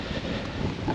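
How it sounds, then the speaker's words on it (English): Strong wind buffets the microphone on an open walk near Acle on the Norfolk Broads, a loud, continuous rumbling roar with no pauses over the short stretch. "you probably can't hear anything with that wind. It is so windy"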